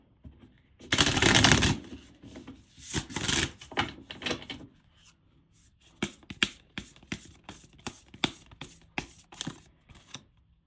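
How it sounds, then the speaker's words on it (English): Tarot cards shuffled by hand: a long dense riffle burst, a second shorter burst, then a run of sharp separate card slaps and taps, close and clear with no voices. "I'm going to pull a card on this"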